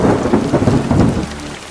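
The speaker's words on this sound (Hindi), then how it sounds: "एक दिन गांव में अचानक से आसमान में काले बादल छा गए। तेज हवा चलने लगी और जोरों की बारिश होने लगी।" Thunder rumbles through a heavy downpour lashing a village under dark storm clouds, with strong wind; loud, dense and continuous rain with deep rolling booms, easing slightly toward the end.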